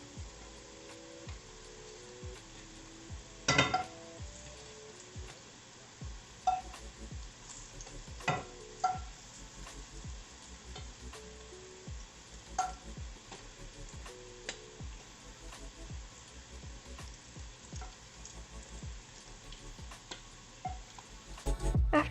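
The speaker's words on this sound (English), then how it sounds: "try to listen for the loud sound of it clinking against the ceramic" Pieces of fried tofu clink against a ceramic bowl in a kitchen, sharp scattered ticks and knocks over a faint sizzle of frying, irregular and fairly quiet.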